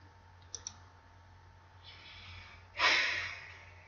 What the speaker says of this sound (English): Sorry guys if you can hear me breathing.